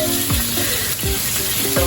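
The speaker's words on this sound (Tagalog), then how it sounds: "Pagtatik ng mantika." Oil sizzles and crackles steadily in a pan as milkfish fries, with repeated sharp spattering pops over the continuous hiss.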